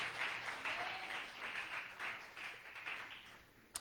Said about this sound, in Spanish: dele fuerte ese aplauso a Jesús.